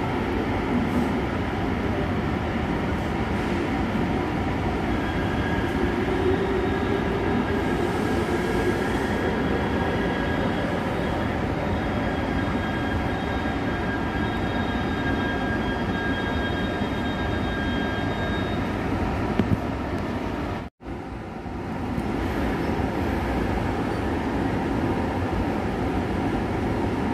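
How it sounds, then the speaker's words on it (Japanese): Steady low rumble and rattle of a Japanese train interior, continuous and fairly loud, with faint high whines, briefly cutting out near the end. "この電車は間もなく発車いたします。"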